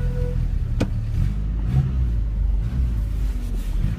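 A 1993 Nissan truck's engine runs steadily with the foot held on the gas, a loud, close, continuous low rumble that rises and falls slightly as it revs, with no voices.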